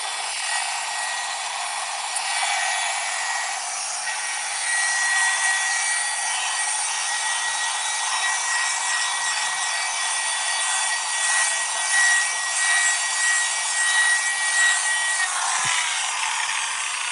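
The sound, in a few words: machine polisher compounding VW Beetle paintwork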